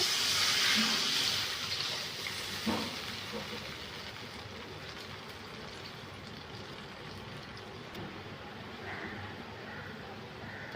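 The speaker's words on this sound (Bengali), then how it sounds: "মশলাটা আমার ভালোভাবে কষানো হয়ে গেছে তো এবার আমি জল ঢেলে দেবো" Water pours steadily into fried spice masala in a cooking pan, a continuous hissing splash that is loudest at the start and settles into a softer simmering wash, with no talking.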